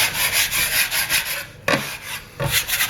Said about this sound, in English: I'm just going to tuck that in and start kind of pulling it back, tucking in the corners and pulling it back.